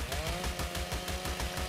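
A chainsaw in the ARK survival video game, its engine buzzing in a fast pulsing rhythm with a steady whining tone, fairly quiet and heard on its own.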